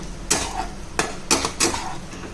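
Metal spoon clanking and scraping against a pan as fish fry is stirred with garam masala and chicken masala, four distinct knocks with scraping between, close and alone.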